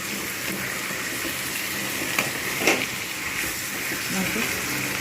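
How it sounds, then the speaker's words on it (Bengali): A pan of chicken and potato curry sizzling softly while being stirred, a steady wet frying hiss with occasional scraping clicks of the spoon, fairly quiet and close. "আমি অল্প করে নাড়িয়ে দেবো"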